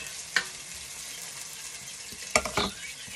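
Broccoli, celery and cabbage fry in a pan with a steady, close sizzling hiss, broken by two sharp clatters of stirring or ingredients being added.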